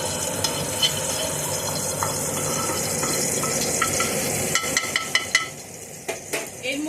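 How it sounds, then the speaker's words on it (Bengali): Dried red chillies and panch phoron hit hot oil in a kadai, giving a steady low sizzle with scattered clinks of a spoon against the pan growing sharper toward the end. "এর মধ্যে আমি এই দেখুন 2টো শুকনো লঙ্কাকে ছিঁড়ে রেখেছি আর একটু 5 ফোড়ন আমি দিয়ে দিলাম।"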